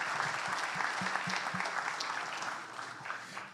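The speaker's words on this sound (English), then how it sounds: "So I think they deserve a huge round of applause" Audience applause fills a room at a coaches clinic in Eagle Pass, Texas, steady dense clapping from a crowd throughout, with no talking.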